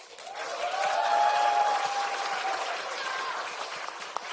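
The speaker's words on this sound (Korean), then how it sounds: "서영교 최고보다 박수가 적은 거 보니까 별로 절박하거나 간절하지 않은 것 같습니다." A room full of people claps at a political party women's rally, swelling quickly to a peak and then tapering into lighter, scattered clapping.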